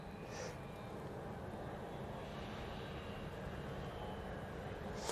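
A Virgin Atlantic Airbus A330-300 from JFK landing at Manchester Airport, heard as a steady, faint, distant broadband roar of jet engines with some wind noise and no talking.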